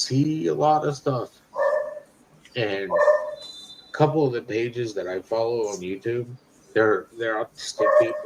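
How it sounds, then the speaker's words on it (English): A dog barks intermittently in the background, a few short yaps breaking through while a person talks steadily in the foreground. "I'm not actually sure if that's my dog or his dog that's barking there."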